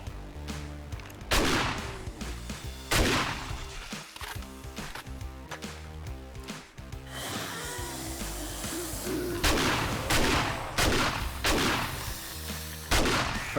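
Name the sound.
turret gunfire in video game 7 Days to Die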